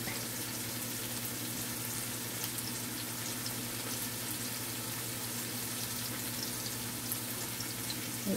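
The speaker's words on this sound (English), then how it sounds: "letting the onion just as they say sweat a bit" Onions sweating in hot oil in a cooking pot, an even close sizzle and bubbling hiss that holds steady and alone throughout.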